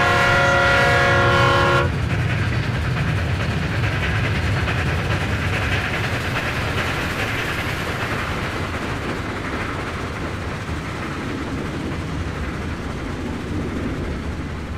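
A train in the Trainz 2019 video game opens with a brief sustained horn, then rumbles steadily along the rails with a continuous rolling roar, loud and unbroken with no talk.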